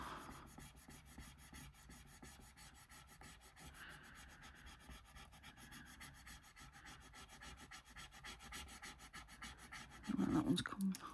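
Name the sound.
rubbing tool in use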